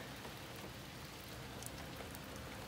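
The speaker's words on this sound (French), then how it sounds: "on entend la pluie à matin" Light morning rain patters steadily on surfaces outdoors in British Columbia, a soft continuous hiss of drops with no talking.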